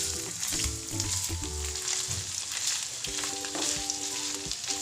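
Paneer frying in a pan with hing, turmeric and red chilli powder, giving a steady close hiss of sizzling oil throughout with a few light scrapes, no talking.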